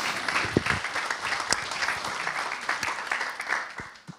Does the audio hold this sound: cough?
no